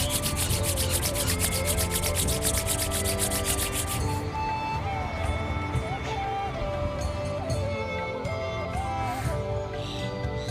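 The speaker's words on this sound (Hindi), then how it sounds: "चलो अब अपने दोनों हथेलियों को आपस में रगड़िए" Palms of both hands rubbed briskly together during a yoga class, a steady rhythmic swishing for a few seconds that then stops, with soft music playing throughout.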